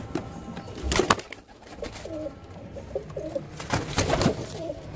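A pair of slate-colored pigeons, male and female, coo in soft, repeated low phrases, close by, with a few louder bursts of background noise in between.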